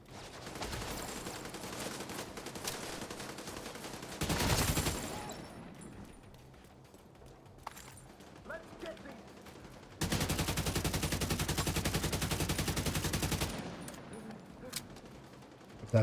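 Sustained automatic gunfire from a video game weapon, a long burst that runs until the magazine empties, with an earlier shorter burst and scattered lighter shots in between, fairly loud and largely free of talk.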